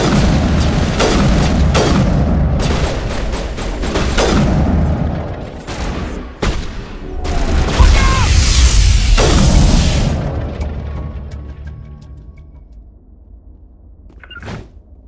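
Intense firefight in the video game Mass Effect Legendary Edition, with rapid loud bursts of gunfire, heavy booms and explosions layered together, easing off toward the end with a final isolated shot.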